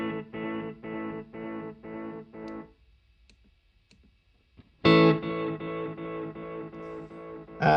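Eventide H90 pedal with delay and modulation effects run in parallel, processing a repeated chordal instrument phrase that stops, leaves a faint tail, then swells back in with a loud, lush, modulated wash.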